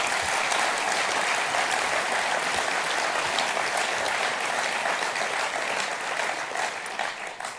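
A large audience at an SNP national conference applauds loudly and steadily, the dense clapping holding strong before easing slightly at the end.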